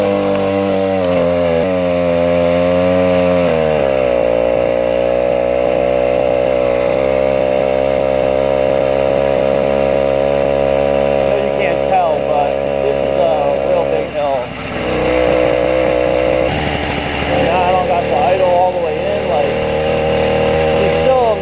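A tuned stock and Dio-reed Yamaha YD100 motorcycle engine idles steadily on its own after carburetor adjustment, a loud continuous buzzing drone that holds throughout with slight wavering in pitch.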